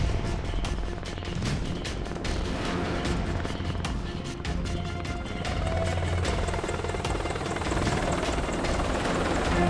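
An Apache AH-64E attack helicopter roars with a dense, continuous rotor thrum and turbine rumble. The beating blades stay loud and steady throughout, with no speech.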